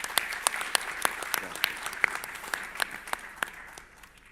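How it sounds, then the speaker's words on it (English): Applause for a Brazil nut panel at a nut industry congress, a modest audience clapping with distinct individual claps standing out, fairly soft and tapering off. "we can have a round of applause for the Brazil nut panel"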